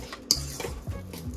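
Salmon cake mixture of fresh salmon and seasonings is mixed in a bowl, giving a few soft scraping strokes and one sharp clink of utensil against the bowl, close and fairly quiet, with no voices.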